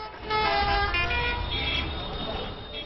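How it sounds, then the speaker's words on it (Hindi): Busy road traffic with a continuous engine rumble and a sustained horn toot from a car or bus, loud and close throughout. "रात दिन दौड़ती भागती सड़कें, बेशुमार गाड़ियां,"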